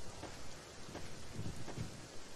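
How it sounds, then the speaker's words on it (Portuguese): Steady rain hisses through the ambience of a horror video game, with faint low rumbles that resemble distant thunder; the downpour stays even and moderately quiet throughout, with no voices over it. "Só tem o som da, o som da chuva."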